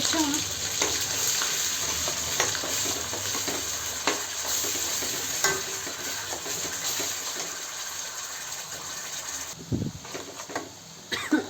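Onion and tomato paste fries in a pan for an elephant yam (jimikand) curry, with a steady low sizzle and occasional scraping stirs, plus a few louder clatters near the end.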